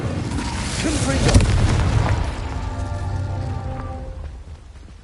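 Confringo blasting spell exploding in Hogwarts Legacy, a loud booming burst peaking early and rumbling down into a fading low tail over a dense game soundscape with lingering tonal hum.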